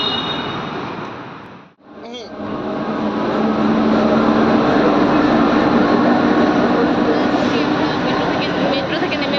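Metro train running through a tunnel, a loud, steady rumble and whine that briefly drops out and then returns continuous and close, with people talking over it.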